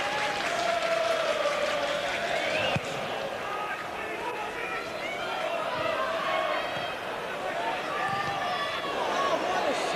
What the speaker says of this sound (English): burst of slow hand clapping greets another Tottenham move